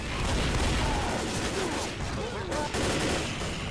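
Sustained automatic gunfire aimed at a Tank in the Left 4 Dead game campaign The Sacrifice, dense rapid bursts from several weapons, loud and continuous, with voices mixed in under the shooting.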